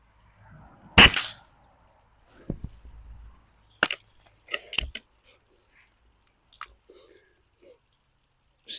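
A BSA Lightning CLX air rifle fires with a sharp crack, followed by quieter clicks and mechanical knocks of the action, with a few more brief metallic taps in an otherwise quiet space.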